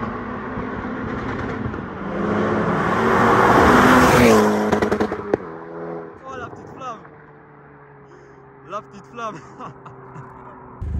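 A tuned Volkswagen Polo WRC stage 2 car with a loud, close engine roar that builds for several seconds, then cuts off, leaving a quieter idle hum while people talk over it.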